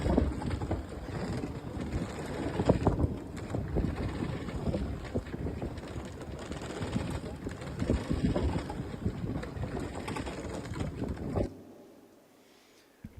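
Steady wind blowing across a sailing ship's canvas sail on a moonlit night at sea, a continuous rushing and buffeting roar with faint creaks, sustained for about eleven seconds before dropping away to near quiet.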